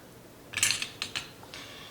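A spoon stirs tahini into a mixture for chocolate chip bars, making a few brief metallic scrapes and clinks close up, with quiet pauses between them.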